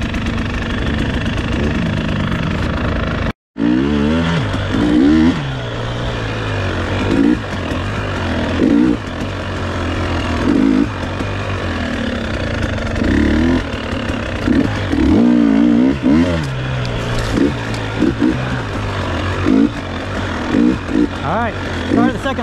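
A KTM 300 XC-W two-stroke dirt bike on an endurance lap, its engine droning and revving steadily throughout with frequent throttle surges, close and loud, a brief cutout near the start.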